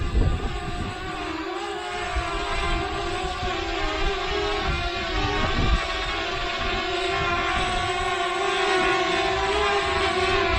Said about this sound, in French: c'est un drone assez bruyant.